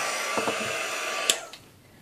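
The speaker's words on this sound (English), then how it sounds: "If you just turn this heat gun on" A heat gun blows with a steady high-pitched whir over paint on wooden stars, a few faint clicks, then cuts off and fades to quiet.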